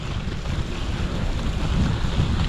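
Steady, heavy winter wind roars across the microphone while cycling on snowy, slushy Toronto streets, with a constant low rumble and buffeting gusts throughout, no voices present.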